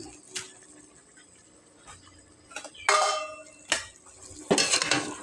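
Stirring chicken stew with carrots, potatoes and a little sugar in a pot, heard as a few scattered scraping and clinking spoon-on-pot sounds in short bursts with quiet gaps between.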